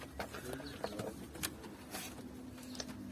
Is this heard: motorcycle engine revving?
no